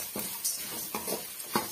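Grated coconut and spices are roasted over a medium flame in a kadai for Chettinad brinjal kulambu, with soft dry scraping stirs repeating about every half second and a faint sizzle underneath.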